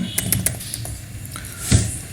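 A computer keyboard on a Windows 10 PC is tapped in a quick run of light, close clicks as a word is typed into a search box, ending with one firmer keystroke.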